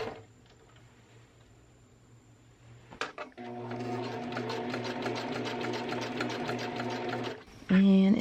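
Sewing machine stitching a dress sleeve seam, a quiet pause then a short clunk before a steady rapid stitching run of about four seconds, close and fairly loud, ending with a brief louder handling noise.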